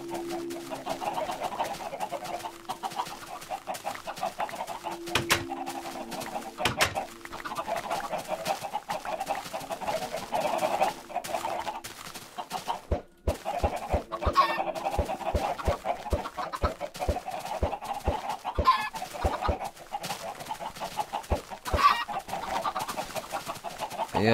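Chickens clucking in the Minecraft video game, repeated short game clucks over a low background with scattered clicky effects and footsteps, fairly quiet.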